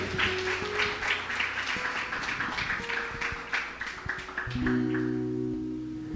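A church congregation applauds in a sustained, even patter of many hands over soft held keyboard tones, with no speech.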